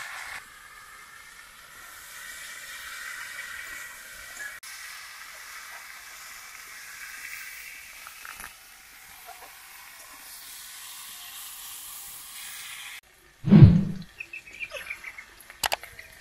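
Potatoes fry with salt, turmeric and chili powder in a pan, giving a steady hissing sizzle for about thirteen seconds before a sharp clatter and a few brief knocks.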